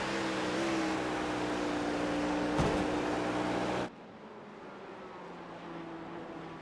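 Onboard engine of the Penn College Technology prototype race car in a college prototype series race at the Florida Grand Prix, a steady droning tone with one sharp knock before the sound cuts abruptly to a quieter hum.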